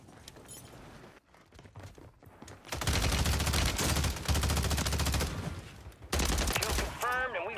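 Rapid automatic gunfire rattles in Call of Duty Warzone 3, long loud bursts of shots close up after a quieter stretch of movement, with excited voices talking over the action.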